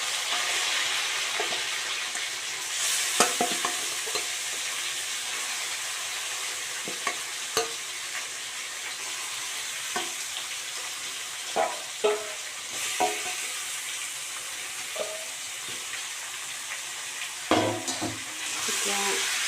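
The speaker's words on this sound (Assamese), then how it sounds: "এতিয়া মই এইখিনি তেলত বহাই দিম।" Spice mix of coriander, cumin and turmeric powders with salt frying in hot oil for a local chicken curry, a steady close sizzle broken by scattered spoon scrapes and stirring clatters.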